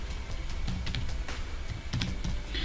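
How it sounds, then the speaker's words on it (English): Keys clatter on a computer keyboard in quick irregular bursts of clicks, close up, with a short pause midway and no voices. "So typing localhost and hitting the enter key"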